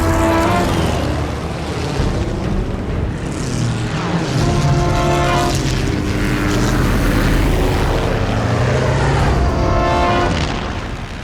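Loud, continuous propeller drone of fighter planes in a wartime air-combat drama, a rough engine roar that swells and holds for several seconds, with no voices.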